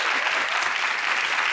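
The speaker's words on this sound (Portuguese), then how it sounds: "Achei que vocês não iam aplaudir" Loud, dense studio audience applause fills a television interview set with a Supreme Court minister, sustained and even from start to finish with no voices over it.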